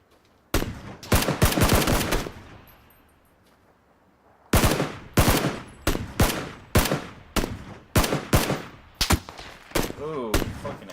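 Repeated gunfire in the video game PUBG, a Kar98 rifle landing a headshot, comes as sharp, loud shots. A dense cluster comes early, then a pause, then a steady run of evenly spaced cracks, each with a short decaying tail.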